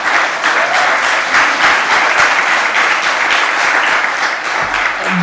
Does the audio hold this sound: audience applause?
yes